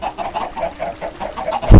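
Chickens in a video game cluck in a quick, rhythmic series of short, fairly loud calls, ending in a sudden heavy thump.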